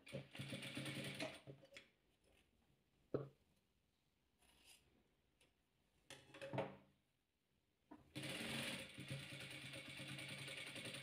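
A sewing machine stitches white fabric for a chess-pattern patchwork quilt, running in two bursts at the start and end with a clear gap of quieter mechanical clicks and handling in between.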